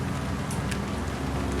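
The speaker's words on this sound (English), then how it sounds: "it's raining" Steady rain from the American Truck Simulator game, a dense continuous hiss of falling drops with a low rumble beneath, loud and unbroken throughout.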